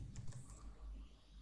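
Keys clatter on a computer keyboard as code is typed into a text editor, a quick run of soft close-up clicks over low background hum, with no voices.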